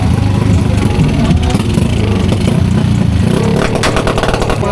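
Motorcycle engine at an uptown motor show in Cagayan de Oro, a loud, steady close rumble with clattering mechanical texture and slight revving throughout, amid crowd noise.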